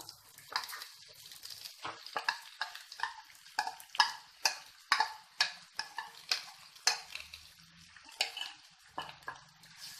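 Chicken is added to a pan and fried for kodi vepudu, heard as a brisk run of rhythmic scraping stirs and clinks over a soft sizzle, close and fairly quiet, with no voices.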